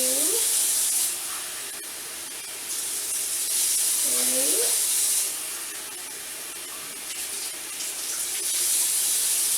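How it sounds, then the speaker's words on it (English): Four cups of water poured onto rice in a pot: a steady, loud, hissing splash that runs on continuously, swelling and easing a few times as the cups are emptied. "now I put in 4 cups of water"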